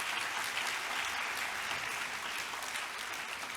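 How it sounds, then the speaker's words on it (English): A graduation ceremony audience gives a round of applause, dense and even clapping from a large crowd that sounds somewhat distant and continues steadily throughout. "can I invite all the graduates to please join me in a round of applause to show our appreciation to them"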